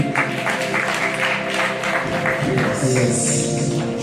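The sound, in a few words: applause in church service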